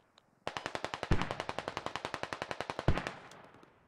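A PKP-Pecheneg machine gun fires in Squad, a long steady burst of about thirty evenly spaced, close, loud rounds with two heavier thumps mid-burst, then a brief tail.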